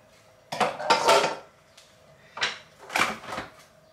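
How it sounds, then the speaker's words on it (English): A metal blade is lifted out of a blender jar holding creamy garlic sauce, giving two short bursts of clinking and clattering separated by a brief pause, close and clear with no speech. "Take out a blade"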